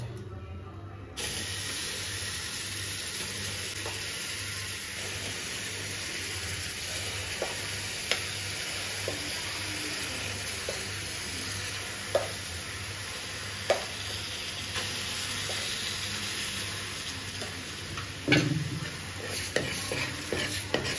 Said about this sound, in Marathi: जी आपण मिक्स केलेली छोटी भाजी आहे ती आपण टाकायला सुरुवात करायची आहे तव्यामध्ये